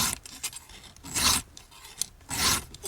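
A round file rasps across the teeth of a dull chainsaw chain in two long strokes with short scrapes between, close and clear, with no talking.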